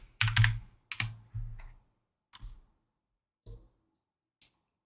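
Keys clatter on a computer keyboard in a few short, fairly close bursts of typing with pauses between them and quiet gaps after, with no speech.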